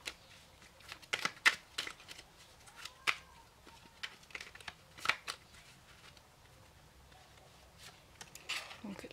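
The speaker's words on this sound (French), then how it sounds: "je vais tirer trois petites cartes" Small oracle cards from a moon-magic deck are shuffled and drawn, giving soft papery snaps, flicks and slides in scattered bursts, close but quiet, with some speaking around them.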